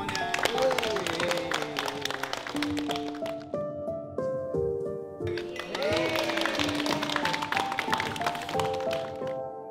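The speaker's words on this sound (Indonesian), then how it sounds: "tepuk tangan semuanya." A film crew claps together on a set right after a prayer, a burst of sharp hand claps with cheers that fades, then returns over background music.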